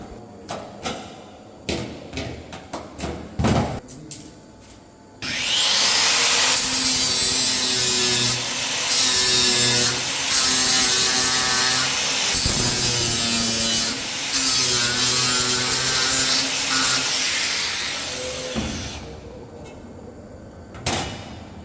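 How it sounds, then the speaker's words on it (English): A stainless steel drip tray is ground with 3M Cubitron abrasive discs, a loud, sustained high-pitched grinding whine lasting about twelve seconds, broken by brief dips, after scattered clicks and knocks of setup and before a quieter tail. "So I've got the 3M Cubitrons on the job. These guys are going to make light work of any grinding"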